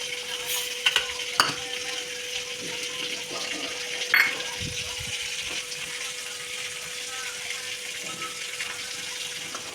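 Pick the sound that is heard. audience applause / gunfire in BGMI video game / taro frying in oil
taro frying in oil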